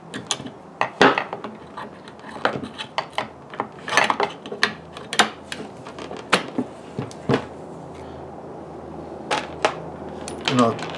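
An Enfield No4 rifle's barrelled action is fitted back into its stock, giving a run of close, sharp mechanical clicks, knocks and rattles at an uneven rhythm, with some quieter scraping between them.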